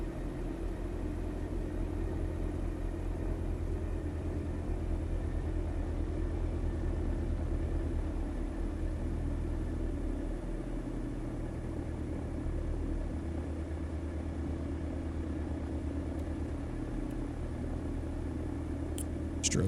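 A low, steady aircraft engine rumble in X-Plane 11 as a plane taxis to the ramp under gray, stormy skies, droning evenly throughout with no talking over it.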